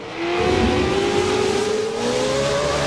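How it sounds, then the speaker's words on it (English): Pro 4WD off-road race trucks in a TORC championship race roar with sustained high-revving engines, a loud, continuous rising whine of horsepower close by, with no talk over it. "I love to hear the motors rev."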